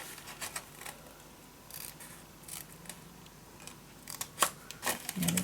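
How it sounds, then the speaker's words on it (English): Scissors snip through folded paper along the fold line in short, crisp bursts, several cuts spaced unevenly and heard up close against a quiet room. "I am going to cut my fold line off"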